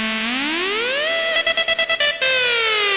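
A bright synth tone from ReFX Nexus in FL Studio glides upward in pitch, stutters in rapid gated pulses, then slides back down into a sustained note, played alone and clean.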